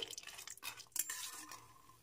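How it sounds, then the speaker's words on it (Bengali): Lentil dumplings (bori) frying in spread oil for a fish-head and Malabar spinach chhyachra, stirred with a utensil: a quick run of scraping, clattering stirs over a soft sizzle, close and fairly quiet, with no voices. "একটু নেড়ে চেড়ে ডালের বড়িগুলো ভেজে নিতে হবে।"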